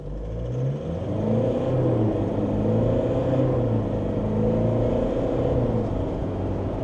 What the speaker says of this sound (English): We're gonna do a stop start. There's no sport mode. I'm just engaging the accelerator.